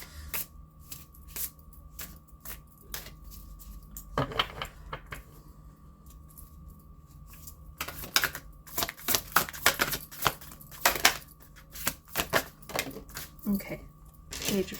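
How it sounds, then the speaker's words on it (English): Tarot cards are shuffled in quick riffling bursts, with short pauses between, close and fairly quiet, with faint background hum. "I'm gonna do a quick little shuffle to get your last card."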